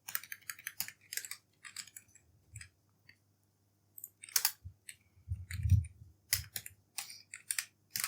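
Bursts of computer keyboard typing while C code is written, quick clustered clicks separated by short pauses, with a few soft low thumps, close and moderately quiet, no talking.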